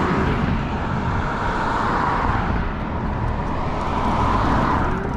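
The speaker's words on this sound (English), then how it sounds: "Lots of traffic, guys." Steady road traffic roars nearby from a commuter e-bike, a continuous loud wash of passing cars and engines with no clear gaps.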